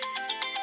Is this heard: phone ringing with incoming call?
yes